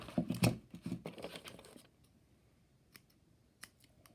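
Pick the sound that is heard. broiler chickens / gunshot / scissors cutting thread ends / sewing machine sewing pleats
scissors cutting thread ends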